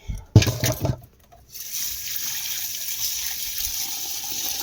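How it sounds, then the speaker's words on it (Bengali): Peas, soybeans, lentils and rice are washed together in a home kitchen, with a few loud clattering splashes of grains and water, then a steady stream of running tap water. "তাই মটর সয়াবিন ডাল চাল সব একসঙ্গে মিশিয়ে নিয়েছি ধুতে হবে ভালো করে ধুয়ে নিই"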